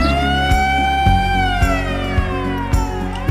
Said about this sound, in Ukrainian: Коли ти чуєш повітряна тривога